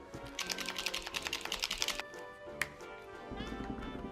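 A masking fluid pen being pumped softly at the nib, giving a quick run of light, close clicking taps followed by a few scattered clicks.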